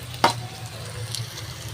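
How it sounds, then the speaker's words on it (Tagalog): Garlic, ginger and onion hit a hot pan with a brief loud sizzle, then a soft, steady frying hiss and a faint scrape of stirring, quiet and close with no voices. "Gigisa natin. Ayan guys, naglagay na ng bawang. Mainit na kawali natin."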